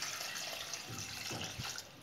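Cloudy rice-washing water is poured steadily into a pot for lamb leg soup, making a soft continuous splashing rush that fades slightly at the end. No voices are heard.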